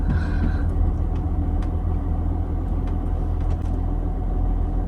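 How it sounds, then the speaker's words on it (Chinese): Vehicles sit stalled in a traffic jam at a bend on a cliffside mountain road, giving a continuous low engine rumble heard close from inside a vehicle, steady and unbroken with no talking. "哇，在这个转弯堵车了。"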